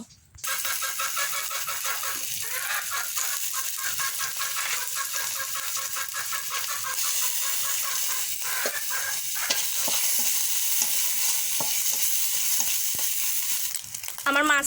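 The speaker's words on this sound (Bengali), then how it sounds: "এখন আমি চিংড়ি মাছগুলো ভেজে নেব কচুলতিতে দেওয়ার জন্য" Shrimp frying in oil in a pan for a kochu loti dish gives a loud, steady sizzle that runs unbroken for the whole stretch, with faint crackles and no voices.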